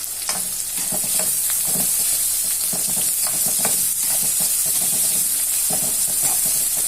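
Thinly sliced onions frying in hot oil, a loud steady sizzle with a constant hiss and occasional stirring scrapes, no talking over it.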